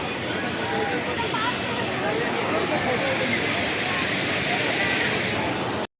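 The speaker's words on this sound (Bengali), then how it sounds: "এই দেখো ঝর্ণাটা এইদিকে নামছে, দেখতেই পাচ্ছ।" Rushing water of Usri Falls fills the air as a broad, constant roar, with people talking close by and a crowd in the background.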